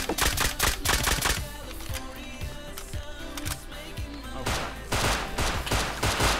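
Rapid gunfire from enemy players in the survival game Rust, dense crackling shots that come in quick clusters at the start and again near the end, loud and close, with lighter scattered shots between them.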